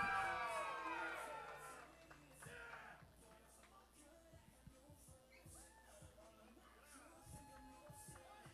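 A crowd cheers at a bass fishing tournament weigh-in at Toledo Bend. A burst of cheering and whoops opens loud, then fades into scattered crowd noise and murmuring.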